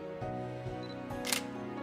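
A single crisp Canon DSLR camera shutter click rises over a faint electronic hum, brief and close.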